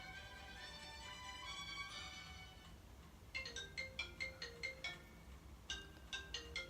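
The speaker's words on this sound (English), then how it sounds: "Sorry about my phone." A phone rings indoors with a melodic ringtone, first a sustained tonal phrase and then a repeating pattern of short bright chimes, fairly quiet and heard on its own.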